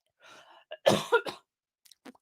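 A single person coughs and clears their throat, a short rough burst followed by a couple of harsh hacks and a faint trailing sound, close to the microphone, with no speech around it.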